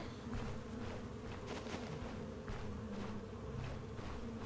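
Steady, continuous buzzing of wasps in the fantasy RPG Stoneshard, a dense insect drone holding at a constant level throughout with no talking.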